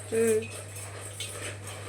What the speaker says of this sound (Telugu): వీటిల్ని మిక్సీ జార్లో వేసుకుంటున్నాం